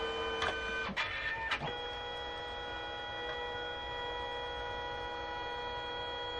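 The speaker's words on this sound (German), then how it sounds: "Dann druckt er magenta." A Canon SELPHY CP1300 compact photo printer running its magenta pass, with a few sharp mechanical clicks at the start, then a steady whirring motor hum that carries on without talk.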